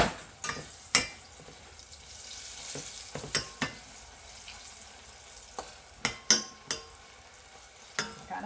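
Onion rings fry in hot oil with a low, constant sizzle, broken by sharp metallic taps and scrapes as a fork turns them, close and fairly quiet.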